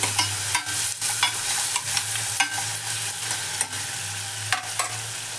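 Chopped tomatoes fry in a pan for an Andhra-style chicken curry, giving a steady close sizzle with a low hum beneath, broken by repeated short scrapes and clacks of stirring.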